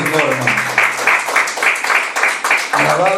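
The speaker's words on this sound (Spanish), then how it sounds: "un aplauso al Señor, hermano" Church congregation claps in an even rhythmic beat during a Spanish-language sermon service, loud and close, with voices mixed in.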